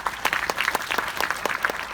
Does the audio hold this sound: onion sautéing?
no